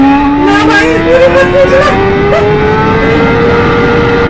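BMW S1000 RR sport motorcycle at full throttle, its engine note climbing steadily in pitch as it pulls hard through the revs, loud and close, with wind rush over the rider.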